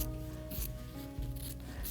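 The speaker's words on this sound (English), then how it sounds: "I'm going to take my scissors and I'm just going to cut out a little bit around it very roughly" Scissors roughly cutting fused fabric for appliqué give soft, close snips and rustling rubs in an irregular rhythm, quiet with no talk.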